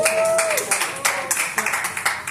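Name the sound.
audience applause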